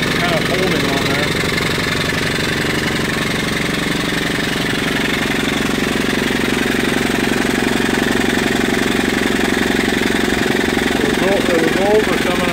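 A steam engine drives a dynamo at over 750 RPM, fitted with an American Swift oiler, giving a steady loud mechanical churning hum that runs continuously throughout with no pauses.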